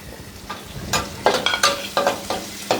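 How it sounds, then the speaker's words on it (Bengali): Chopped garlic fries in a pan, hissing and sizzling up close while being stirred in a series of short scraping bursts, with no talk. "রসুনটা আমি একটু লাল করে ভেজে নেই।"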